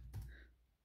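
A single short burst of computer keyboard typing, faint and close, with no voices.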